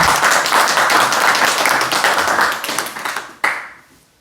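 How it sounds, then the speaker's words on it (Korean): An audience in a lecture hall applauding their instructor, a dense burst of many hands clapping that fades out after about three seconds, ending with one last sharp clap. "우리 일타 강사님한테 박수 한번"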